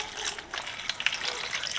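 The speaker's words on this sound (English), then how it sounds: "So we are going to pour our Deox C in here" Deox C rust remover liquid is poured into a container while restoring a rusty Craftsman pipe wrench, producing a brief, soft gurgling and splashing pour that lasts under two seconds.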